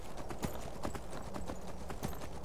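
Horse galloping in the video game Skyrim, a rapid rhythmic clip-clop of hooves repeating evenly throughout, fairly close and steady, with no voices.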